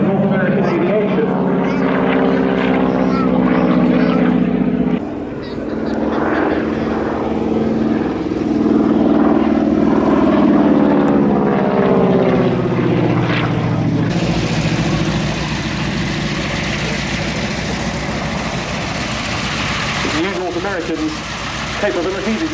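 A North American Aviation propeller aircraft drones overhead at an airshow, its engine note rising and shifting as it passes, loud and sustained under a public-address commentator speaking throughout.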